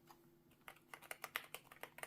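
Rapid keystrokes on a white SteelSeries Apex Pro TKL Gen3 magnetic-switch mechanical gaming keyboard, a close, quiet run of crisp clicks and clacks with no talking.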